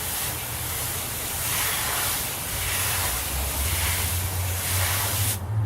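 Warm water pouring steadily from a garden hose into an Intex 15-foot by 48-inch Ultra Frame above-ground pool, a continuous broadband splashing rush that holds steady, no talking.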